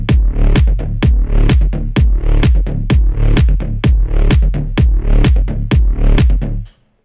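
A synth bass made in FL Studio pumps under a steady four-on-the-floor kick with sidechain, each thump ducking the loud buzzy bass into a rhythmic swell, looping for several bars before stopping.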